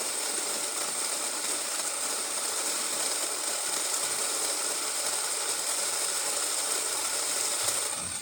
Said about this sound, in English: I'm gonna grind all the coffee out